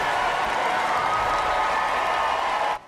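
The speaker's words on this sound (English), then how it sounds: "The crowd erupts as Hillary Clinton takes the stage with the" A crowd at a Hillary Clinton campaign rally in Omaha cheers and applauds in a dense, continuous roar of clapping and shouting that cuts off abruptly at the end.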